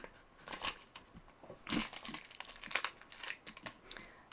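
Black permanent vinyl being peeled away from its backing sheet after cutting on a Cricut, giving close, irregular crinkling and tearing rustles in short bursts with brief pauses.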